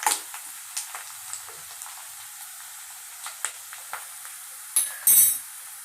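Onion is fried in a pan until reddish for a Marathi baingan chicken masala, with a faint, thin sizzle under scattered spatula scrapes and taps and a louder metallic clatter near the end, no talking.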